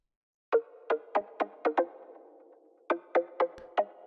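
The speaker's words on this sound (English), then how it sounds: "So I added three more pluck layers." An attacky synth pluck layer with a fast envelope fires sharp, snappy transient hits in a rhythmic pattern. A quick burst of plucks is followed by a short gap and then another cluster, up close with no voices.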